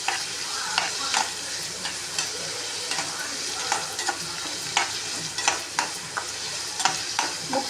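Onions being sautéed in a pan for Tamil-style egg aviyal, a steady soft sizzle with frequent scraping stirs of a spoon at an irregular rhythm, close and continuous, with no talking.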